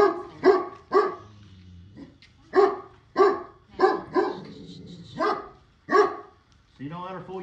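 A guard dog barks nearby in a series of about ten loud, evenly spaced woofs, ending in a whiny yip-like vocalization, during work on the wheel studs of a 2004 Ford F-150 4x4.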